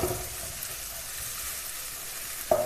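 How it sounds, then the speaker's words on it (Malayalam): Dried red chillies sautéing with ginger and garlic in a pan for a Kerala-style chicken thoran, a steady soft sizzle and hiss throughout with a brief stir near the end. "വറ്റൽമുളകും ചേർത്ത് നന്നായിട്ടൊന്ന് വഴറ്റിയെടുക്കാം"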